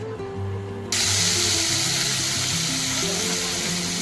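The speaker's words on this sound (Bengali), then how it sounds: "তেলের মধ্যে জিরে ফোড়ন দিয়েছি" Cumin seeds hit hot oil and burst into a loud, steady sizzle that starts abruptly about a second in and crackles on without a break.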